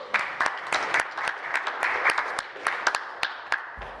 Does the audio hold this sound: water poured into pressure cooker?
no